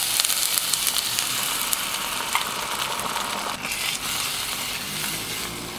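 Egg frying in a Dreepor multi-function cooker after salt and pepper, a steady, loud crackling sizzle that runs unbroken throughout with small pops, no talking.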